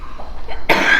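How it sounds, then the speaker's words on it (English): A single sharp cough from a woman with bronchiectasis lying back in a clinic chair during a lip filler treatment, sudden and close after a quiet moment. "she gets a cough when she's laying"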